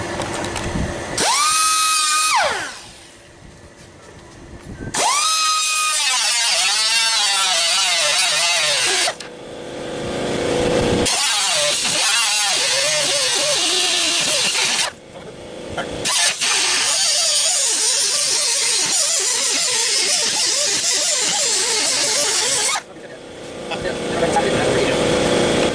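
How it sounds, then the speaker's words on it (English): A power tool whines in loud bursts while cutting a steel brace in the bed of a 1965 Ford F-100 truck, with rising and falling pitch between short pauses, close and harsh. "I'm going to cut it even down through here so I can weld to it"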